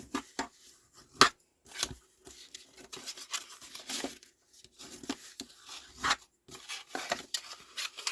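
Card for a scrapbook album box is burnished by hand, heard as close, intermittent rubbing and scraping strokes in short bursts with small taps between them.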